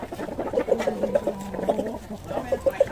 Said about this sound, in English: There's a rooster and a hen up there.